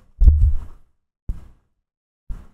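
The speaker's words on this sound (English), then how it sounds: "Could you hear the arm pop?" An arm joint cracking right beside a microphone gives three separate dull pops at uneven gaps. The first is louder and fuller than the other two, and the sound is heard alone with no talk.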